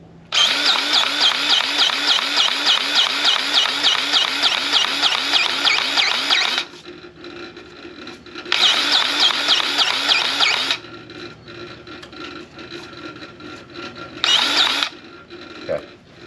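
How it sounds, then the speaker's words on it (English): Greasing a Kubota SSV75P skid steer while its tire spins, a loud rhythmic mechanical whirring with fast repeating clicks running in long bursts, separated by quieter stretches of low machine noise. "I like to spin the tire also when I'm putting grease in it"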